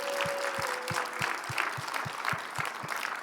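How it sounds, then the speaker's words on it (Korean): A church congregation claps in praise of God, with a rhythmic unison beat of roughly three claps per second over a softer crowd murmur and a faint held tone. "우리 박수로 한번 하나님께."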